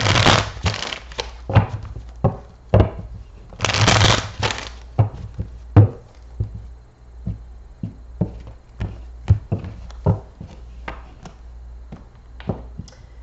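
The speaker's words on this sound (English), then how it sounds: "let's shuffle these and then we're going to do the general reading with the Spanish Tarot" Spanish tarot cards are shuffled by hand in a series of crisp riffles and soft taps, close and fairly loud, with two longer bursts of riffling among irregular single snaps.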